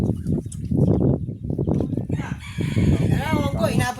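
A rooster crows in the background at a casual outdoor gathering at a hut, its call rising behind people chatting loudly nearby throughout.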